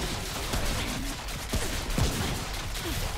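Bursts of video game gunfire crackle through a dense mix of background game noise, with a few sharper shots standing out near the middle and end.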